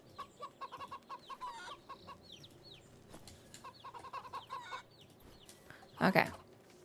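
Chickens in the video game Wytchwood cluck in a quick irregular series over a quiet farm-field ambience, ending with a louder burst of flapping and squawking.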